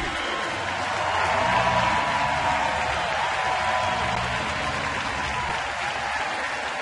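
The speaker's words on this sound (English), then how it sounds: "the first at bat for Freddie Freeman, and listen to the crowd welcome him" Baseball stadium crowd at a New York Mets at Atlanta Braves game cheering and applauding a batter stepping up, a broad, sustained roar of distant clapping and shouting that swells slightly and holds steady.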